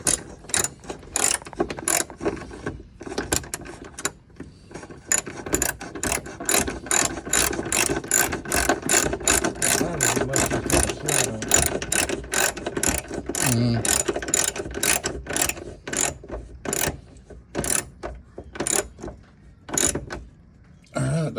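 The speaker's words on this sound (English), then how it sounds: "I can put your air ratchet on if you want to." Air ratchet working on a 2001 Toyota Tacoma, a long run of rapid, loud mechanical clicking bursts with brief pauses between, close by.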